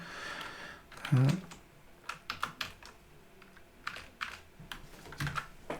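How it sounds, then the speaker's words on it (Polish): Password being typed on a computer keyboard, a quick run of sharp key clicks in uneven bursts with a couple of louder presses, close and clear with no talking. "Wpisujemy to hasło."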